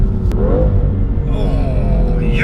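A 2017 BMW M2 accelerates with a deep, loud engine rumble, its pitch climbing steadily through the revs from up close.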